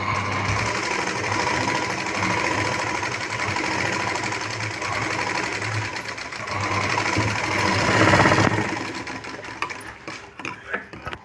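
Sewing machine stitching a puff sleeve, a fast, continuous mechanical rattle at close range that runs for about eight seconds before slowing into a few uneven bursts.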